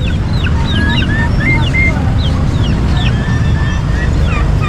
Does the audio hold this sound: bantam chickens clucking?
yes